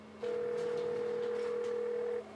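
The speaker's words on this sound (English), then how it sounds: "The phone rang 4 times." A single steady telephone ring tone sounds on a call, one clear unbroken burr lasting about two seconds over quiet line hiss.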